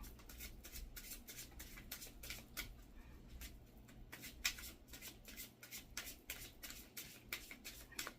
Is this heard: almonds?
no